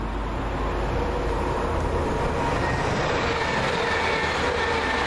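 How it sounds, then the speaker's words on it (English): A Northern Rail train on the Crewe to Manchester Piccadilly service rumbles in with a continuous low roar and broadband rolling noise, steady and fairly close. "Comes my train. The 1426 Northern Rail service from Crewe to Manchester Piccadilly."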